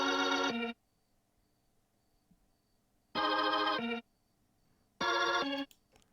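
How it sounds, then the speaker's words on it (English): Electronic organ in FL Studio plays the chord progression of an Afro-pop love song beat, three bright sustained chord stabs separated by near-silent gaps, loud and alone. "So I just play this on the organ, which is just follows the chord progression of the song."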